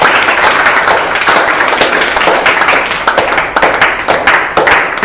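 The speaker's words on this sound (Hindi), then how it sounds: "ताली बजाओ इसके लिए" Students in a Hindi-medium class 10 maths lesson clap together for a classmate, a dense, loud round of applause that fills the room continuously, with individual claps audible throughout.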